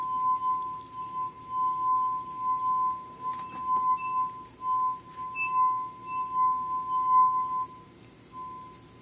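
Musical glasses ring with a sustained, pure tone that swells and fades in waves, with occasional light clinks, played as a homemade glass symphony in a quiet room.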